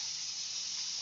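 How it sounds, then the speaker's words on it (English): Steady broadband hydraulic hiss from a car carrier trailer deck being lowered, close and continuous for about a second with no talk. "Dropping the trailer down."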